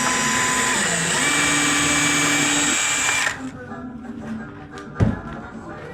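A power drill runs steadily while driving screws to join two kitchen cabinets during a renovation in an old home, whining for about three seconds before cutting off, followed by quieter handling noises and one sharp knock.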